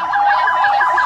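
A police patrol car siren wails loud and close in a continuous rising and falling sweep, with faint background chatter.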